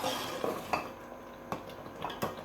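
Rice kheer being stirred in a pot on medium heat, a spoon scraping and knocking against the metal in a few quiet, spaced strokes with soft clatter between them.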